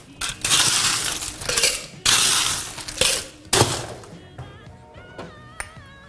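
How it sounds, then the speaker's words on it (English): Ice cubes are scooped and dropped into a metal martini shaker for a Cosmopolitan, several loud clattering bursts of clinking ice against metal, close up, then tapering to lighter rattles and faint clinks. "So you're going to take your martini shaker,"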